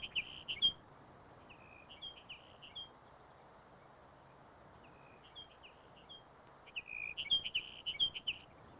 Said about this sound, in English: the dry sagebrush expanses that stretch from the western slope of the Rockies to California ring with the songs of the sage sparrow